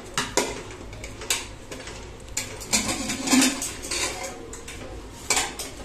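A metal pressure cooker pot and lid clink and clatter in a few separate knocks as it is handled and set in place with potatoes, cauliflower and peas, with no talking.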